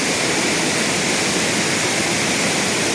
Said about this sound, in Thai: น้ำใสไหลเย็นครับ